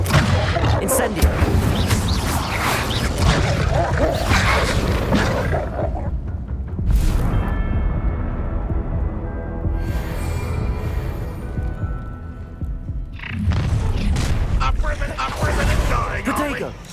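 An Incendio fire spell cast in the Hogwarts Legacy video game, loud bursts of fiery blasts and booms amid a dense run of combat effects, with a quieter tonal stretch in the middle.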